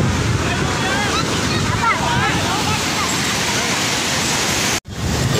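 Ocean waves break and surge at Puri beach, a loud continuous roar of surf with wind buffeting the microphone and faint crowd voices, cutting out briefly near the end.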